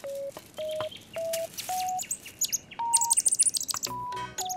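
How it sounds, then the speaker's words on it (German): A small bird chirps in a nest, giving a run of short, high, evenly spaced tweets followed by a rapid fluttering burst of chirps, clear and close amid soft background sound. "Setz den kleinen Vogel in sein Nest"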